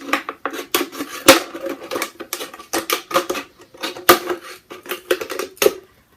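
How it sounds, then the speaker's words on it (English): Scissors or a blade cutting all the way around a plastic bottle to remove its top, for a homemade rain gauge: irregular crisp snips and crackles of plastic, close and moderately loud, with short pauses between cuts. "So we're just going to cut the top off."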